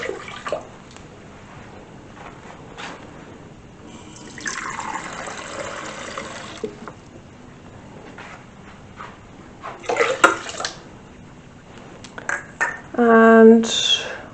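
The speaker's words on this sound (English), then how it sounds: "I'm going to put a cup of water in." Tap water poured from a cup into a bowl of hot roll bread mix in a home kitchen, a steady splashing pour of a few seconds, followed by a brief clatter near the end.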